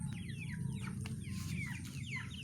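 Chickens cluck in brief, repeated calls over a steady low background rumble, likely rain, as loose fowl are checked in the open.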